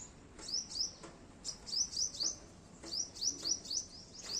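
Repeated bright sparrow chirps in a rooftop jasmine garden come in short bursts and clusters, soft and somewhat distant, over a quiet outdoor background.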